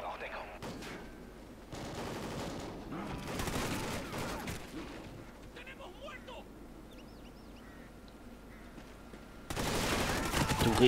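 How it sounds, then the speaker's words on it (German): Gunfire in the video game Call of Duty: Ghosts: irregular bursts of shots, some in rapid clusters, mixed with other battlefield noise and a voice talking throughout, the heaviest burst near the end. "Wer schießt da auf mich?"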